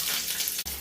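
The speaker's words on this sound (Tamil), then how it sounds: "இப்போ நம்ம நெய்யில் போட்டு பொன்னிறமாக வறுத்து எடுத்துக்கலாம்." Pieces of sliced pasiparuppu paniyaram dough frying in hot ghee, a close, steady bubbling sizzle that cuts out sharply near the end.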